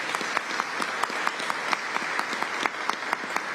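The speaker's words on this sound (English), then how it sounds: "Let's give him a round of applause as well." Audience applause at a state government press event, steady dense clapping sustained throughout with sharp individual claps standing out, moderately distant and filling the room.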